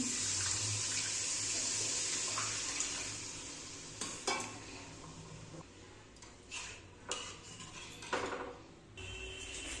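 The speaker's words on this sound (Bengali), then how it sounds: "সম্পূর্ণ মশলাটা কষানো হয়ে গেছে তেলও ছেড়ে দিয়েছে এবার জল দিয়ে দিচ্ছি" Water poured into fried spice masala in a pan for a rohu fish curry with cauliflower, a steady rushing pour that gives way to sizzling, bubbling and a few stirring clatters.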